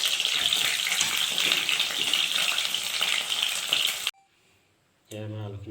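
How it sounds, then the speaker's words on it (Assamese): Potato pieces fry in hot oil with a loud, dense sizzle and crackle for about four seconds. After a short pause, a voice speaks. "এয়া মই আলুখিনি ফ্ৰাই কৰি লৈছোঁ"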